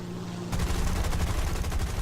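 Rapid aircraft machine-gun fire from an XF5F fighter in a War Thunder dogfight, a dense, steady burst lasting about one and a half seconds over low engine drone.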